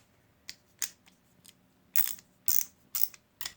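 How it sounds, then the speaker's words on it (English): A ratcheting breaker bar clicks in a series of sharp, close ratchet bursts, a few light ones first and then louder, more spaced clicks, with no talking. "ratcheting breaker bar still works."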